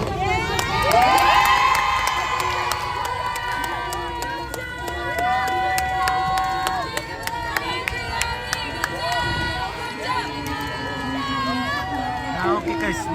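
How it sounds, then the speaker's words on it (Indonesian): An audience at an elementary school marching contest in North Toraja claps and cheers, with children shouting, whistles and a loudspeaker voice over a busy outdoor crowd that stays loud the whole time. "kita berikan aplaus"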